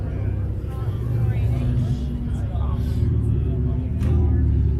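A wide-body Nissan GTR cruises on a Southern California freeway, giving a loud, continuous road rumble and engine drone close by, with people talking over it throughout.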